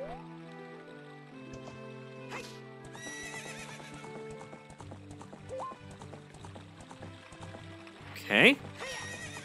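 Game music from The Legend of Zelda: Ocarina of Time plays throughout, with rhythmic hoofbeats and a sharp horse whinny bursting out loudly near the end.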